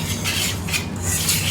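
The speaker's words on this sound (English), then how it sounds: "Give this a whisk." A salt and cayenne pepper seasoning mixture is whisked in a bowl, with quick scraping strokes heard up close over about a second and a half.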